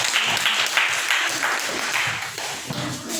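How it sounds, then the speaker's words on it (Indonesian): A classroom of students applauds a presenting group, a sustained patter of many hands clapping at close range for several seconds with little talk over it. "tepuk tangan dulu untuk kelompok 3"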